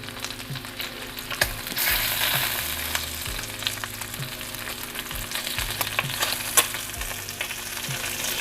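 Food frying and releasing fat in a Paderno cast iron pan, a crackling sizzle with repeated utensil scrapes and knocks at irregular intervals, close and loud with no voices.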